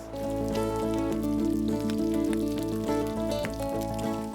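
Chopped onion sizzling in a little melted ghee, a steady dense crackle and hiss of frying that runs unbroken and fairly loud throughout, with no talk over it.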